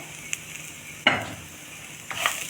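A spoon stirs fried lentils and peanuts tossed with salt in a pan, with one clear scraping stroke and a second later on over a quiet, steady background.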